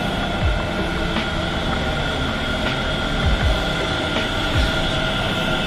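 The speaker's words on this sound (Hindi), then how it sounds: "वो आ रही मेट्रो." A metro train arriving at a station rumbles steadily with low throbbing hum and faint rail clatter, a continuous near mechanical roar without voices.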